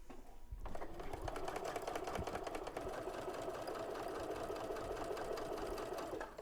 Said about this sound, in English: take it over to your sewing machine and sew the same thing